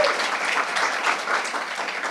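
Audience at a school district Unity Day press conference applauds students with steady, dense clapping that holds at an even level throughout the brief burst, with no talking over it.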